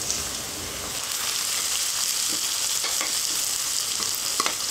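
Chopped tomatoes and onions sizzle steadily in a hot pan for broad beans thokku, with light scraping and stirring clicks scattered through the close, even frying hiss.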